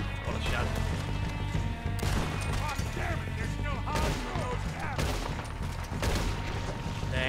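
Rapid gunfire bursts in the video game Red Dead Redemption 2, with loud clustered shots and crashes repeating every second or two over a dense game soundtrack, with voices underneath.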